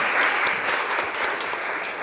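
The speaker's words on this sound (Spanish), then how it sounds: "Fuerte aplauso para el Señor." A burst of full, steady applause from a congregation at a Catholic Mass in a Virgen de Fátima chapel, dense and even from start to finish.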